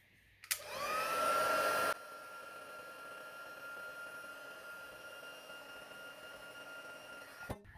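An embossing heat tool melting embossing powder on handmade thank-you cards switches on with a loud, abrupt whir that eases after a second or two into a steadier, quieter blowing hum with a faint whine, running alone until it cuts off.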